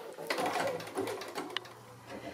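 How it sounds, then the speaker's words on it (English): Sewing machine running a quarter inch seam around a pinwheel pin cushion, a steady close mechanical whir with a few small clicks. "we can sew all the way around, but we do need to leave a gap"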